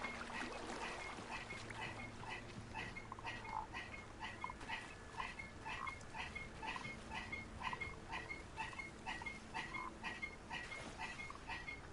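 Toads in Hogwarts Legacy croak in quick, steady, repeated bursts, a continuous rhythmic chorus at a moderate distance over faint outdoor ambience.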